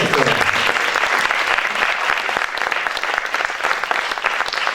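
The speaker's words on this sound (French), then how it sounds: "Merci d'applaudir Morgane Fradon, Miss Picardie 2019." A crowd at the Miss Aisne 2020 pageant results ceremony applauds Miss Picardie 2019, loud sustained clapping with a sharp onset that stays full and even throughout.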